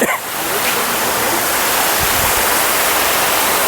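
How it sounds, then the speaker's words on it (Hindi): A river waterfall at Tata Steel Zoological Park in Jamshedpur, a loud, continuous rushing roar of falling water with no break. "एक नदी का झरना है"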